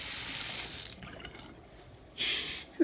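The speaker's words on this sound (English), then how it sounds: "come over here and rinse their hands off with only water" Water runs from a sink tap as hands are rinsed at a washroom sink, a close hissing stream that stops, leaves a quiet gap, then starts again.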